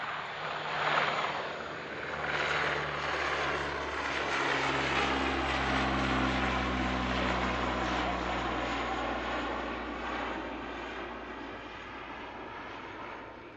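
A propeller aircraft passes at an airshow, its engine drone loud and steady, rising and shifting in pitch as it sweeps by overhead and slowly fading toward the end.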